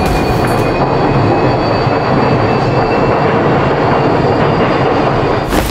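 A train in Honkai Impact 3 rumbles loud and steady as it departs, with a dense roar held for the whole stretch and a faint high whine running underneath.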